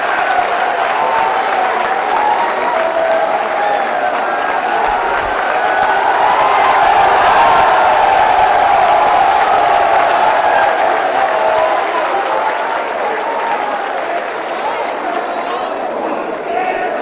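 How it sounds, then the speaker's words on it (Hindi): Large crowd at a political rally in Bihar applauds and cheers loudly and steadily for a welcomed speaker, a dense, continuous roar of clapping and voices that swells slightly midway and holds for the whole span. "आइए जोरदार तालियों के साथ उनका इस्तकबाल कीजिए।"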